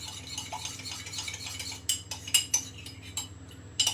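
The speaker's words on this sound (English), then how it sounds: "So give that a mix, make sure there's no lumps in there." A utensil stirs gravy mixed with corn flour in a bowl, first with soft swirling scrapes, then a run of bright metallic clinks against the dish, close and clear with no talk.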